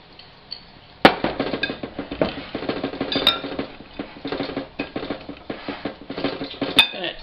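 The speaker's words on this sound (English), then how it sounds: "I'm going to take this pan off the table so it doesn't make as much noise while I'm mixing" Boston brown bread batter with raisins being mixed in a pan on a table, giving rapid, uneven metallic scraping and clinking of a utensil against the pan, close and fairly loud.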